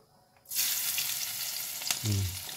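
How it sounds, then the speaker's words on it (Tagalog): Garlic dropped into hot oil in a pan while cooking shrimp paste with mung beans, a sudden burst of loud sizzling that holds steady, with a brief clatter of a utensil near the end. "Gisa na tayong bawang."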